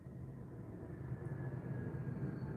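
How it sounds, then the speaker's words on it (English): Airplane flying overhead outside in winter, a steady low broadband rumble droning evenly throughout, faint and distant with no voices. "plane flying overhead."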